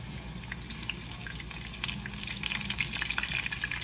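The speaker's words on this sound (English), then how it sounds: "then it's going to start frying the corn tortilla" Continuous dense sizzling and crackling of food frying in hot oil, close and steady throughout with no talking.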